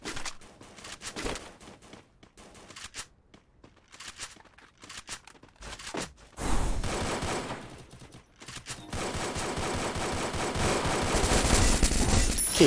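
Rapid gunfire in the mobile shooter Free Fire, scattered bursts early that build into dense, continuous automatic fusillades later, loud and close with clattering effects.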